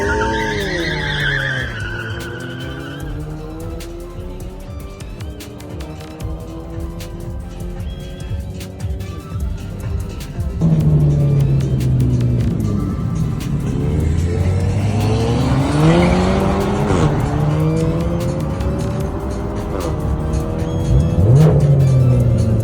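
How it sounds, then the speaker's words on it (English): A Citi Golf race car at a track, its engine revving up and down in sweeping notes while tyres squeal through the corners, growing louder midway and staying close. "A little bit of tyre squeal there."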